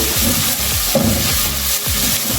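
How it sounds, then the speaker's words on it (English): Onions and garlic fry loudly in a pan for homemade pizza sauce, a dense close sizzle with repeated scraping stirs giving a rough rhythmic pulse. "The garlic has brought a new twist into these onions. So I will allow this to continue cooking"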